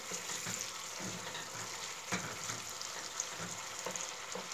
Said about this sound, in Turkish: salçalara kokusu çıkana kadar kavuruyoruz.